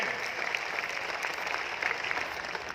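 Sustained applause from an audience at an RCM business gathering in Bhilwara, a dense even wash of many hands clapping continuously throughout, fairly loud with no break.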